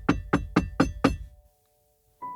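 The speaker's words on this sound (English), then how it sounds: "Thumbkin knocked again, harder this time." Five hard knocks on a door in quick, even succession, loud and close, then the ring dies into silence before a faint noise at the end.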